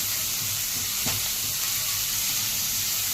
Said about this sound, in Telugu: పచ్చిమిర్చి, కొంచెం ఫ్రై చేసుకోవాలి బాగా.